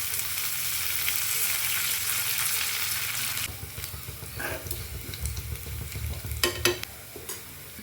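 A tempering of crushed garlic and curry leaves sizzles loudly in a hot pan, a steady bright hiss that drops abruptly partway through, then settles into quieter crackling with a few sharp pops.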